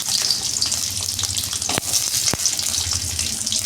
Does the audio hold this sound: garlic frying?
yes